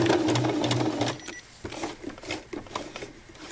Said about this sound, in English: we're going to sew all the way to the end like this